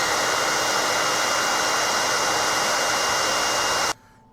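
Heat gun blowing hot air close by, a loud steady rushing hiss that runs unbroken and then cuts off abruptly near the end, leaving quiet.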